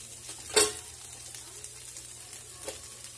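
Turmeric, Kashmiri red chili and other ground spices frying in oil in a pan, giving a low, steady sizzle with an occasional sharper clink or stir partway through.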